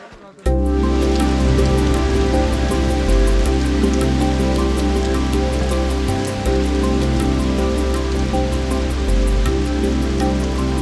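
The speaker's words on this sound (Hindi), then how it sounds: "अभी यार हल्की हल्की बारिश शुरू हो गई है" Steady broadband patter of light rain in the mountain meadows of Chukail, Swat Valley, continuous and close, with a constant wash of falling drops and no clear voices.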